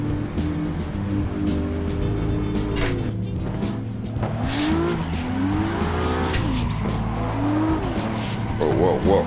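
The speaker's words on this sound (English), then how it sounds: "let's see what I can do with this car" A race car in a racing game, driven with a MOZA R9 direct drive wheel, howls with revving engine tones while tires squeal in rising and falling sweeps, loud and close, with a voice talking over it.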